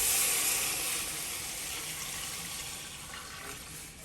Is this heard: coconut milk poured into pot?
yes